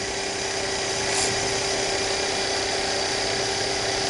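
A wood lathe spins steadily with a constant high whine and dense hiss while the rough edge of a wooden muddler is rounded over, close and without talk.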